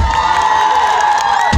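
A crowd cheers and whoops loudly, with scattered shouts and some clapping mixed into a steady roar of voices.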